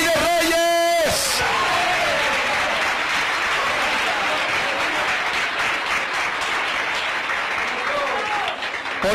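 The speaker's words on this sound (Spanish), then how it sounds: "Denle palmas al Rey de Reyes." A church congregation at an evangelistic service breaking into sustained loud clapping with shouts and cheers, following a preacher's brief call, rhythmic hand claps filling the room for several seconds.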